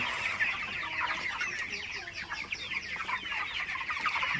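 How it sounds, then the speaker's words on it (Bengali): Broiler chickens about a month old clucking and chirping in a poultry shed in the morning, a dense overlapping chorus of short calls at moderate volume with no talk. "আমার ব্রয়লার মুরগিগুলো কিন্তু মাশাআল্লাহ খুবই ভালো আছে"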